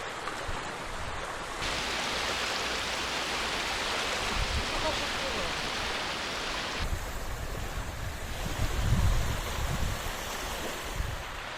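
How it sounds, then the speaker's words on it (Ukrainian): Strong wind roars across an open, wild body of water in a broad, continuous rush, with lapping surf and gusts that swell and ease. "Чекаємо поки вітер трохи стихне та перезавезу."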